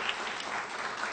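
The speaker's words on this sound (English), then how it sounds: "If you could give me a round of applause with him as well." A lecture audience at Catholic University claps for a guest, Dr. Al Pierce: a short, dense burst of many hands applauding together, steady and fairly close, with no pause.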